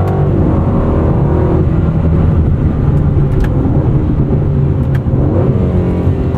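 Aston Martin DB12 accelerating on a drying road, a steady, loud engine and road drone that holds constant throughout with a few faint clicks, heard from inside the cabin with no talking.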